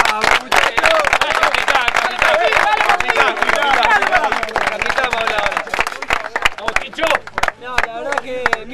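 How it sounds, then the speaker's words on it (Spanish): A crowd gives the players of a sports team a loud, sustained round of dense clapping after a final, mixed with shouting and babbling voices and fading in spots toward the end. "un aplauso para ustedes"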